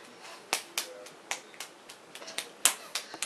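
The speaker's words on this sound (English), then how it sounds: "Clap, clap, clap." Sparse hand claps in a quiet room, a handful of sharp, close slaps at an uneven rhythm, with a child's home reading lesson going on around them and no talking over the claps.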